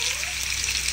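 Steady, close sizzling of oil frying pakora-style battered fish, eggplant and potato, a continuous bright hiss with no voices.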